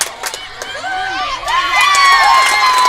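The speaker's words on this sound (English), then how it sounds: "Very enthusiastic crowd here." A loud, enthusiastic crowd at a high school sectional final softball game cheers and shouts continuously, with high voices swelling toward the end.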